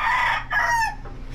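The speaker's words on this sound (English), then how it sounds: "We got roosters and whatnot." A rooster crows nearby in a rural Puerto Rico setting, one loud drawn-out call with a rising then falling tone, alone over faint background noise.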